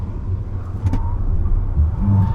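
A 2024 Mercedes-Benz GLA 250 e runs through a moose-test evasive manoeuvre, giving a steady, loud low rumble of engine and road noise with slight swells.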